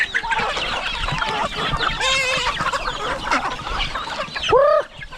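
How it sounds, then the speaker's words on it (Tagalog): Chickens and chicks cluck in a coop, with dense overlapping clucks and high peeping chirps. A louder rising squawk comes near the end, all close and without talk. "May mga sisi pa tayo dyan sa kulungan, oh."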